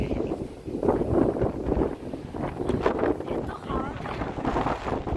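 Strong wind buffets the microphone in long, uneven gusts at an ancient site in England, roaring close and loud for the whole stretch while someone talks under it.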